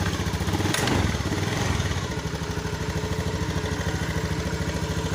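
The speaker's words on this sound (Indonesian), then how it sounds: "Dan saya lihat di sini untuk motornya bisa hidup, namun mati lagi ya teman-teman." A Honda Beat FI scooter engine, fresh spark plug fitted and battery weak, runs close by with a steady, rapid putter and a brief rougher burst near the start; no stall is evident.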